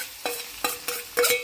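Onion, tomato and carrot frying in a pan are stirred in four distinct scraping strokes, with a steady sizzle underneath; close and moderately loud, no talking.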